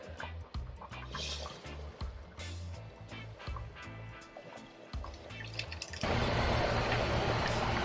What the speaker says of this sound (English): pour that rice in like that